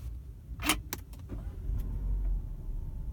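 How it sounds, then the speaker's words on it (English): A Peugeot 3008 comes to life with a few quick clicks and a brief starter crank, then the engine settles into a low, close idle hum. "Anyway, you start up the car"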